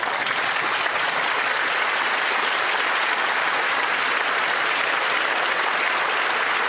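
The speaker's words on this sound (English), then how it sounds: "They actually stood up and claps" A standing audience at a political gathering claps loudly and continuously, a dense wash of many hands that holds steady throughout without a break.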